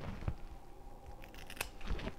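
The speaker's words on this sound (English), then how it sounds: "Okay, I'm just gonna cut straight across." Scissors cutting straight across a person's own hair, a few distinct crisp snips with soft rustling between them, close and fairly quiet, with no talking during the cuts.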